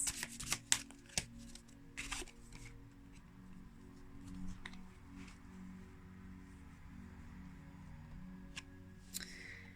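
Tarot cards shuffled and drawn by hand, a few crisp flicks and slides near the start and a brief riffle near the end over a low steady room hum, close and fairly quiet.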